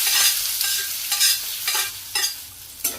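Onion goes into hot oil with cumin and mustard seeds, giving a loud sizzle at the start that settles into frying, broken by several distinct bursts of stirring scrapes, close up and without speech.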